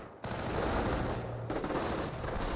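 Sustained gunfire in Company of Heroes, a World War II strategy game, as a rifle squad suppresses Panzer Grenadiers: continuous, dense machine-gun and rifle fire, fairly loud and unbroken, with no talk over it.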